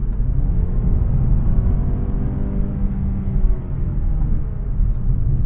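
Low, steady engine drone and road rumble heard inside a 2022 Mazda3 driven in sport mode, a muffled cabin hum with slight swells as the engine pulls, no talking.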